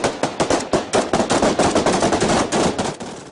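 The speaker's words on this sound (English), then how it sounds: "Then his gunmen opened fire." Taliban gunmen fire automatic weapons in news footage of an execution: loud, rapid, continuous bursts of gunfire with sharp repeated cracks and no talking.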